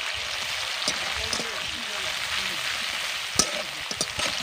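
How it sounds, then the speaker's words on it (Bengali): Chopped large onions dropped into leftover oil from frying fish for fish biryani, sizzling in a steady hiss with a few sharp crackles and pops. "ওই তেলে দিয়ে দিচ্ছি কেটে রাখা পেঁয়াজ।"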